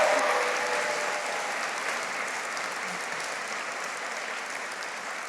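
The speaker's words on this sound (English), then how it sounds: "can everyone give her a little round of applause?" Audience applause at a 2025 celebration speech, a steady dense wash of many hands clapping that holds from start to end, fading only slightly, with no talking over it.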